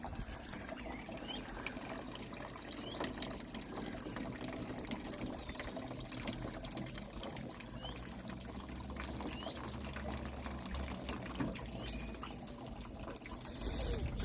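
Water runs steadily from a tap in an aquaponics system. The trickle is soft and continuous, with a faint low rumble in the background and no talking.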